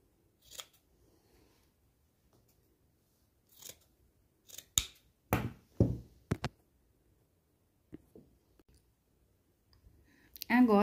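Scissors trimming a sewn fabric seam on pajama pants, a scattered series of sharp snipping clicks close by, mostly quiet between cuts, ending with a short burst of talking.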